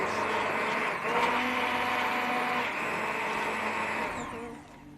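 A kitchen blender runs steadily in a home kitchen while churros are being made, a loud continuous whirring motor drone that holds for about four seconds before dropping off near the end.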